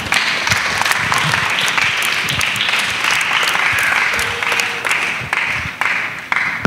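Sustained applause from a gathering of children at a church service led by a pastor, with dense, steady clapping for the whole stretch and a few voices faintly mixed in.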